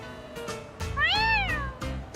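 A video game cat meows once, a clear rising-and-falling mew, close and distinct, with light background noise before and after.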